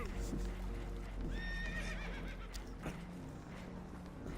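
Spooked horses in Red Dead Redemption 2 give a loud, rising whinny over a dense, noisy game soundscape with hoof clatter and commotion.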